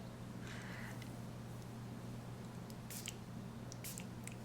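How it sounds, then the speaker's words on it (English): A spray bottle spritzes water onto a handmade card in a quiet room, with a few short, soft hissing bursts over a low steady hum. "The next thing I'm going to do is spritz some water on there."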